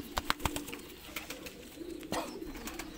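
Black fighter Shirazi pigeons in a breeding setup give soft, low coos close by, mixed with light wing flutters and clicks over a quiet background.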